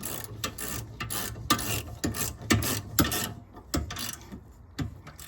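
A hand ratchet tightens sway bar end link bolts on a 2009 Saab 9-3 Aero XWD rear suspension, giving bursts of close, crisp clicking in short irregular runs separated by brief pauses.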